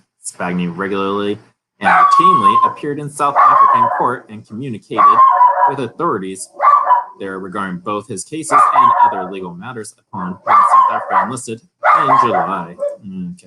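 A dog barks and yips repeatedly indoors, loud and close, in bursts mixed with whimpering, overlapping a person speaking.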